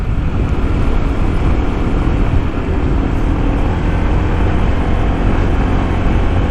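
Honda ADV 150 scooter riding over gravel, a loud constant broadband rumble of engine, tyres and wind noise with no breaks, no voices.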